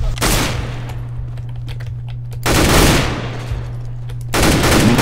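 Gunfire in CS:GO, loud bursts of rapid automatic shots in two clear volleys with a sharp shot at the start, close and dominant over faint background noise.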